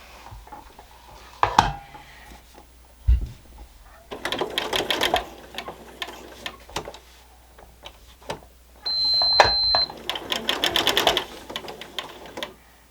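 Sewing machine stitching a quarter-inch seam on a scrappy quilt panel, running in several bursts of rapid mechanical whirring and clatter separated by pauses and small clicks.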